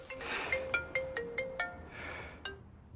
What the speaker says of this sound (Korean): 이스라엘 수상이 먼저 전화를 걸어옵니다